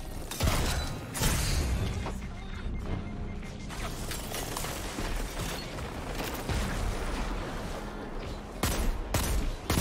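Rapid gunfire from the video game Destiny during a zone-capture match, with repeated sharp shots and mechanical clatter layered over game effects, loud and continuous through the clip.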